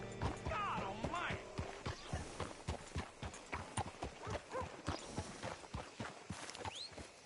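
Horse hooves clop in an irregular walking rhythm across a hard surface in the video game Red Dead Redemption 2, with a horse whinnying early on and faint voices in the background.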